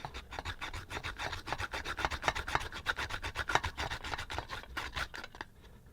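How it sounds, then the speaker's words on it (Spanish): A piece of wood rubs rapidly against the small pinion gear of a stepper motor, making a fast, rhythmic rasping scrape of repeated close strokes that fades out at the end. "Voy a rozar esta madera contra el piñón que lleva aquí"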